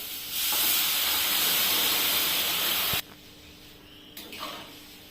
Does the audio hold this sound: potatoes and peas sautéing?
yes